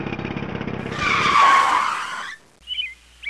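A vehicle's tires skid loudly for about a second and a half as it brakes to a stop on a road, after a rumbling engine, with a short thin squeak following.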